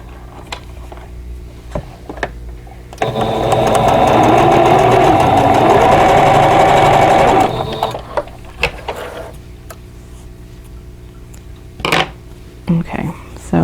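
Sewing machine stitching quilt block seams for a vintage quilt block, a steady whirring run of about four seconds, framed by quieter handling clicks and taps before and after, with speech also present in the clip.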